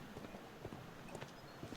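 Horse hooves clip-clop along a street in Sherlock Holmes: The Devil's Daughter, a horse and buggy passing with several irregular, fairly faint knocks under a low game background.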